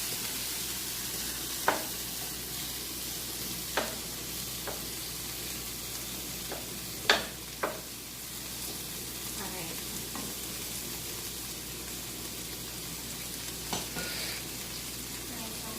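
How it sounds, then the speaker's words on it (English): Butter and vegetables sizzle steadily in a skillet for a keto chicken-and-veggies dish, a constant close frying hiss broken by a few sharp pops and clatters of utensils, with no talking. "I'm going to add just a little more butter since we're adding more items to the skillet"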